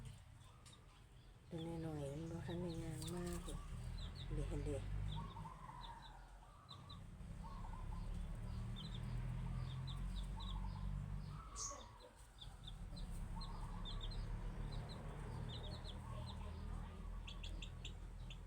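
Bantam chickens clucking and chirping near a farmyard in rural Isan, Thailand, with a hen among them. Their calls repeat through steady outdoor background noise while people talk nearby.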